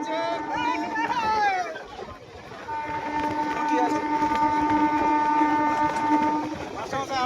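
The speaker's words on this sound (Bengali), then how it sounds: "আজকে আমরা সেই ট্রেন পেলাম আমাদের চেনা জায়গাগুলো আমরা দেখতে দেখতে যাচ্ছি" A train running on the newly opened Jayrambati line in West Bengal rumbles steadily with a sustained horn blast, heard from on board at moderate distance, with people talking over it.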